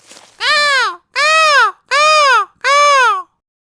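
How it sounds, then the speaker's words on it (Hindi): Cartoon crow cawing in an animated Hindi folk tale, four loud, drawn-out harsh caws in an even rhythm, sounding alone with no talk. "कौवे की काव काव सुनकर"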